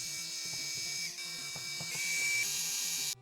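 Phillips screws are driven out of a Nintendo NES game cartridge shell by a whirring electric screwdriver, a steady high motor whine with rhythmic ratcheting clicks and brief pauses.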